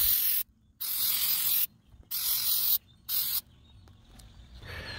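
Aerosol can of gray Flex Seal sprayed onto the rivets of a canoe hull, three close, loud hissing bursts of about a second each separated by short pauses, followed by quieter handling noise.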